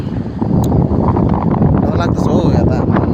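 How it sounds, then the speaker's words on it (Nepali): Strong wind gusting steadily at an exposed high spot, a loud continuous rushing roar buffeting the microphone throughout. "आवाज सुन्नु सक्नुहुन्छ हजुरहरूले हावा एकदम ठुलो चलिरहेको छ यहाँ"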